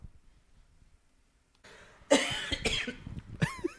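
A sudden burst of coughing breaks through after a near-silent stretch, a few harsh coughs close to the microphone.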